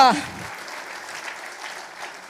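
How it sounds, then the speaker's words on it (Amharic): A church congregation claps together in a dense burst of applause that carries on steadily after a brief voice at the very start. "እስቲ አጨብጭቡና አሜን በሉ።"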